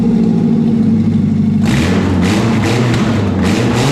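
Nissan S14 with an SR20 engine on its first start, loud and steady, settling from a smooth low idle into harsher blipping revs partway through, with a few rhythmic surges near the end and no talk.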